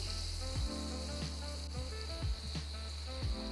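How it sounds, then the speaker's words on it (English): Diced sweet potatoes searing in oil in a pan, with a soft, steady sizzle under a low hum and a few faint clunks at intervals, heard alone without talk. "We're just allowing the potatoes to sear slightly at the bottom so there's a little bit of color"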